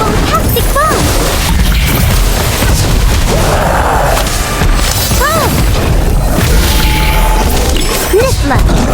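Fantastic Bomb spell blasts in the mobile wizarding game Harry Potter: Magic Awakened, loud booming crashes with shattering spell effects piled into a dense, continuous barrage of game sounds, with voices mixed in.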